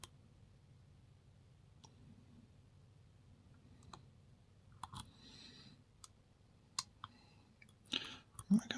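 Lock pick working the pins of an Ultion cylinder in an old front door lock, giving faint, sparse clicks and small metallic ticks over a quiet background, growing a little busier and louder toward the end.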